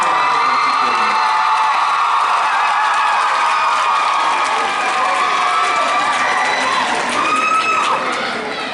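Audience applause and cheering fill the hall at an Eastern Michigan University multicultural graduation ceremony, with a loud, sustained crowd roar, whoops and scattered shouts carrying on without a break.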